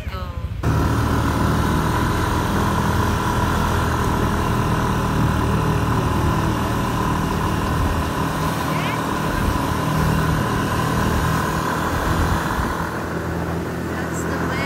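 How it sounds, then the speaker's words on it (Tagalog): A motorcycle engine runs steadily on a ride uphill in Bali, Indonesia, a constant droning hum that holds at an even level throughout. "sasakay kami ng motor guys"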